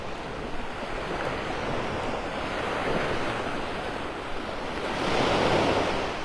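Ocean waves break and wash onto the beach at Delnor-Wiggins in North Naples, Florida, a continuous roar of surf with gusty wind buffeting the microphone and a louder surge near the end.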